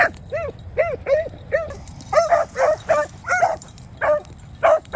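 A young hound pup yips and bays in short bursts while chasing a baby rabbit, roughly a dozen high, repeated barks in an uneven rhythm, moderately close and clear over a quiet outdoor background.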